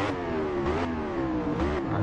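A 2015 Yamaha R1 sport motorcycle accelerates with a steady, high-pitched engine whine that rises and dips with throttle changes, loud and continuous without talk.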